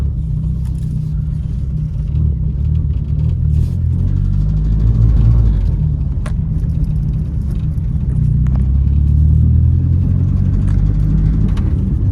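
Misfiring GA16 engine in a Nissan Sentra, running as a steady, rough, low rumble close to the microphone for the whole stretch, with no talking.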